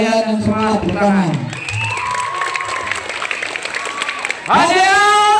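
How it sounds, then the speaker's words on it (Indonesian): A crowd of scouts at a Pramuka anniversary celebration claps and cheers briefly, with shouted voices and an amplified speaker over the noise. "Oke, tepuk tangan buat kalian yang semangat"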